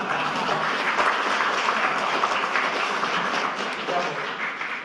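Audience and press members at a party meeting applaud together, a dense, even wash of clapping that holds steady at moderate loudness throughout, with faint crowd murmur underneath.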